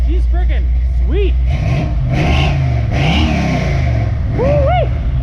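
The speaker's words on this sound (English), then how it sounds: "Give her some revs, boy." A turbocharged 327 engine in a Chevrolet Impala revs hard, rising and falling in pitch through several throttle blips, loud and close, with people shouting and cheering over it.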